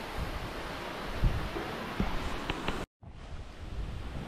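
A waterfall tumbling behind a cliff in a coffee plantation gives a steady, broad rushing roar that fills the whole clip, broken by a short drop-out near the end.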